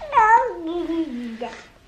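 A house cat gives one long, close meow that slides downward in pitch, followed by a short second chirp-like mew, loud and clear against a quiet room.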